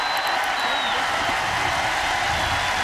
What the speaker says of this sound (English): this crowd is rocking today